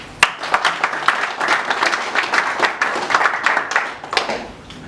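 Audience at a Congolese business association gathering applauding, a loud dense burst of many hands clapping close by, sustained with uneven peaks for several seconds.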